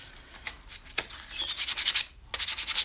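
Sandpaper of 120 grit rubbed over a shirt and pants for cosplay weathering, a steady rough scratchy rasp in short back-and-forth strokes, close and fairly loud with a brief pause midway.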